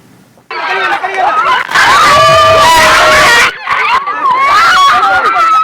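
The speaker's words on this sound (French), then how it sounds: "Des cris de joie et des pleurs de déception ont ponctué la proclamation des résultats du baccalauréat session 2014" Students scream and shout for joy as baccalaureate exam results are announced at a jury center in a capital city, a loud, chaotic burst of many voices with crowd chatter around it.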